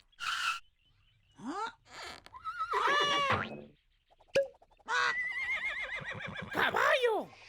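A horse neighs and whinnies several times, with rising and falling whinnies spread through the stretch, some apparently voiced in a cartoon style, alongside animated speech in a children's animal-sounds program.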